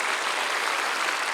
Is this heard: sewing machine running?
no